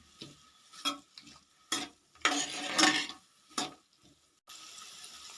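Dried red chillies and onions stir-fried in oil for paruppu soru, heard as intermittent scraping stirs and bursts of sizzling close by, with quiet gaps between strokes.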